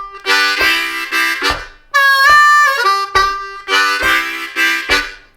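Blues harmonica lick on a chugging supervamp, with bent draw notes sliding back up to clean pitch, played in short phrases with brief gaps, close and loud, no talking.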